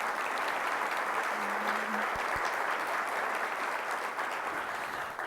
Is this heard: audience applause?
yes